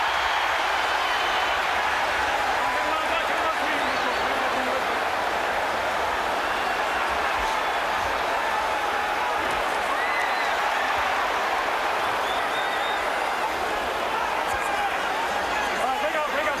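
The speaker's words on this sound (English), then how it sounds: "the crowd are behind him." A boxing crowd cheers for Holmes in a continuous, loud roar of many voices that stays steady throughout, with a commentator talking over it.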